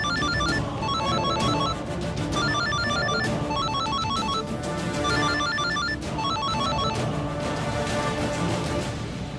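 A telephone ringtone chirps in repeated bursts of electronic tones, loud and close, cycling steadily with short gaps between rings.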